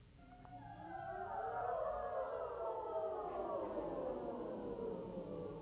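Choir singers in rehearsal glide their voices in a vocal siren exercise, a loud sustained chorus of many voices sweeping smoothly up and then slowly down in pitch, heard on its own without speech.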